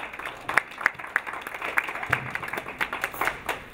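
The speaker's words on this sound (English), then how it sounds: "he deserves a round of applause on the front end of this discussion" An audience at an education summit breaks into applause, a loose patter of individual claps with a few sharp louder ones standing out, moderately close and filling the room for a few seconds.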